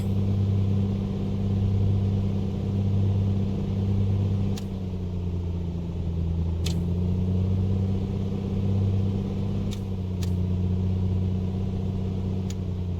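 The simulated engine of a Piper Comanche 250 is run up to 2000 RPM in a flight simulator game. A steady, loud, droning hum holds with a slight dip partway through, and a few faint clicks sit on top.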